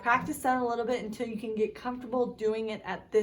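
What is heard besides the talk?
No distinct noise like a dog, phone or traffic.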